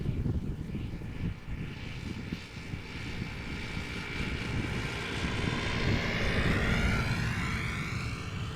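A Vueling Airbus A320 airliner arriving from Barcelona, its broad engine roar sustained and steady, swelling slightly louder toward the end as a rising, sweeping whine passes overhead.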